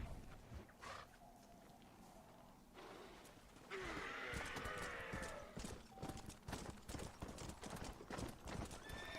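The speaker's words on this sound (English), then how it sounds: "And this is one of the 4 horses." A ghostly horse in Red Dead Redemption's Undead Nightmare gallops with dense, rapid hoofbeats and lets out a whinny, under layered game ambience and a voice speaking.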